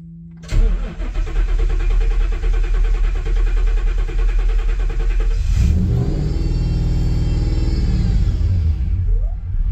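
A car engine is cranked by its starter for about five seconds with a rapid, rhythmic chugging. It then catches and roars into a loud, steady running note close by.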